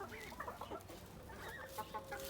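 Chickens cluck and murmur softly while being fed bread, several quiet, uneven clucks overlapping at close range with low background noise.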